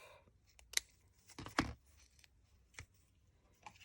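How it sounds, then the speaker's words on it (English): Scissors snip through the end of a paper strip in a quiet room: a few sharp, close cuts with small rustles and handling noises between them. "I'm just going to snip it off"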